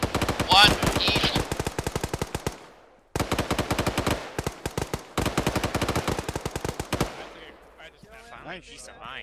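Machine gun fire in a military video game, loud rapid bursts of evenly spaced shots in three long volleys separated by short gaps, then a quieter tail with faint distant noise.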